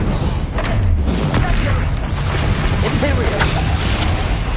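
Bombarda blasting spells erupt in Hogwarts Legacy combat, a dense run of loud booming explosions and impacts rolling continuously without pause, with a voice calling out the spell.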